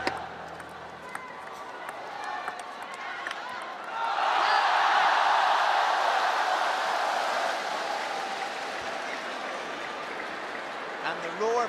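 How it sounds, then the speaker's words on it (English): Crowd roars at a China vs Japan table tennis World Team Championships final, a broad loud swell rising suddenly midway and holding as sustained cheering over steady arena murmur. "the roar from the crowd after the first point's like a roar at the end of the final"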